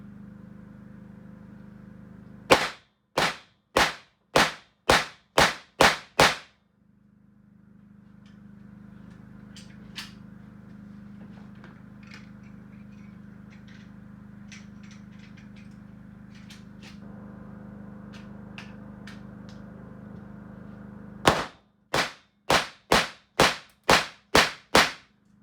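An AEA BW S45 mini .357 air rifle fires sharp, loud cracking shots in quick even succession: a string of seven, a long quiet stretch with faint handling clicks, then another string of seven.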